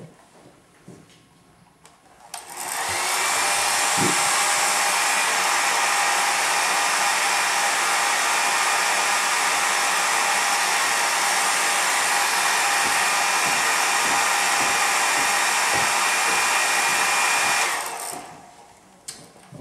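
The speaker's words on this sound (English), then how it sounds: "so I'll use the hairdryer if it's available" A hair dryer blows steadily at full power for about fifteen seconds, a loud continuous whooshing roar that starts and stops abruptly.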